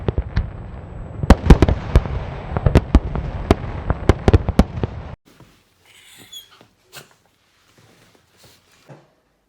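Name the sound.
fireworks going off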